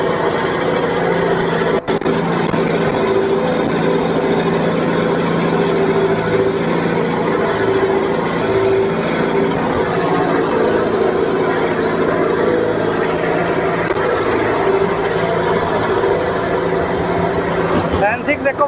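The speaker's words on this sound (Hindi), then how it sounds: "ये देखो कुबोटा MU 5502 गजब।" A Kubota MU 5502 tractor engine idles steadily and continuously throughout, a close, constant low hum with a faint high whine, while someone talks over it.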